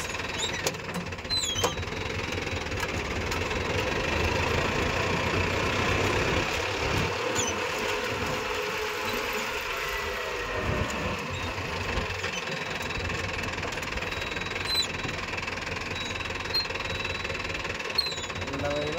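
A Mahindra Arjun Novo 605 DI tractor running a rotavator through farmland among coconut trees, a steady loud diesel drone with rattling knocks throughout, voices faintly under it.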